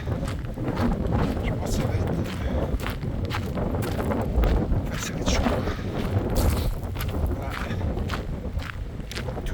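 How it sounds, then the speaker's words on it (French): Strong, cold wind blows outdoors and buffets the microphone with constant loud rumbling gusts, while someone speaks briefly over it. "un sacré vent"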